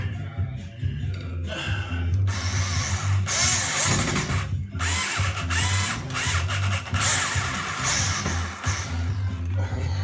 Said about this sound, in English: I'm about to go ahead and anchor down the screws over here and secure the ring.